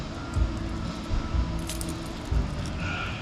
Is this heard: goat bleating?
no